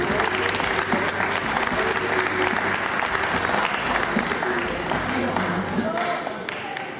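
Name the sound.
audience applause welcoming a speaker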